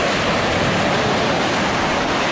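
A dense, steady wash of roaring surf on a Costa Rica beach fills the whole clip, loud and close, with no voices.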